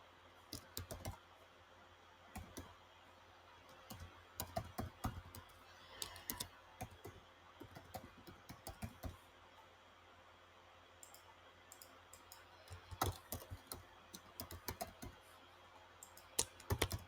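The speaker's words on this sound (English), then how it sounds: "Now, let me go there and type some email." Keys clatter on a computer keyboard as an email is typed, in irregular bursts of quiet, close clicking with short pauses between words.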